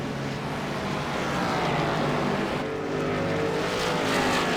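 A stock race car in an All Pro series race at Richmond roars steadily into turn 3, its engine drone loud and continuous with a slight rise in intensity near the end, other cars blending into the track noise.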